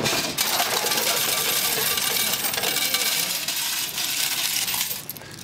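Coins clatter and spill continuously in a Penny Falls arcade coin pusher machine, a dense metallic jingling heard up close with no talk.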